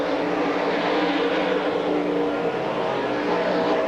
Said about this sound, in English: Now Mark Billett trying to make a move on the outside in that number 22 car